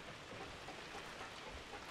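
Steady rain falls across a nighttime Call of Duty 4 multiplayer map, Wet Work, making a dense, even hiss that stays constant and fairly quiet throughout, with no voices.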